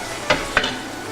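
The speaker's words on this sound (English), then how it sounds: "Just give this a quick stir." A spoon scrapes twice inside a pot of Macedonian semolina dumpling soup, two short, quick strokes over a soft steady hiss.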